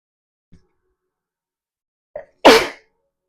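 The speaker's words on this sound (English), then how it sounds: "I have to sneeze." A single loud, close human sneeze, preceded by a faint breath and a short inhale-like catch, then silence in a quiet indoor room.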